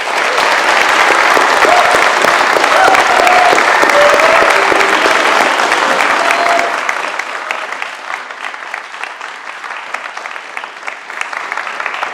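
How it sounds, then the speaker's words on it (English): Loud, dense applause from an audience welcoming panel guests at a GoldenEye Nintendo 64 developer talk, sustained for several seconds before thinning to a softer, scattered patter. "A round of applause, please,"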